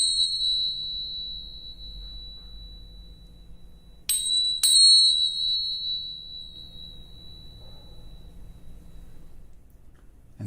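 Small tingsha cymbals are struck together twice, giving bright, sustained metallic rings that decay slowly over a quiet background.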